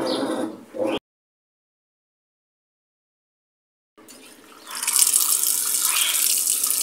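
Whirlpool semi-digital washing machine running with water, a bright rushing flow that cuts out into about three seconds of silence, then returns and swells to a loud, steady gush.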